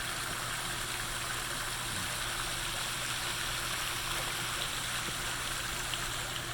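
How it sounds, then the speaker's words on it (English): Outdoor fountain topped with fire in a botanical garden: a steady, broadband wash of splashing water, continuous and fairly loud, with a low hum underneath and no voices. "So this is a really neat fountain I've been wanting to get closer to."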